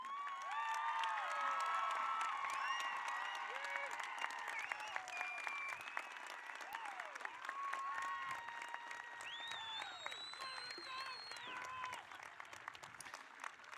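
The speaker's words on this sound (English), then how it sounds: "please stand and give these kids on the field one more round of applause" A high school graduation crowd in 2021 claps and cheers for graduates on the field, steady applause mixed with whistles and shouts that carries on for several seconds before thinning out.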